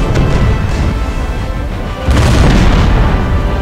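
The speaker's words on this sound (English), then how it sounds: "both sides initiated a horrific barrage of cannon fire upon each other" A loud, dense cannon barrage at the Battle of Blenheim, with heavy booms rolling into one another as a continuous thundering rumble. No voices are heard.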